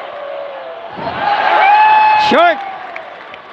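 An arena crowd at a Gilas Pilipinas versus Changwon LG Sakers friendly basketball game shouts and roars during a free throw, a swelling wall of noise with whistle-like pitched tones, and a commentator talks over it.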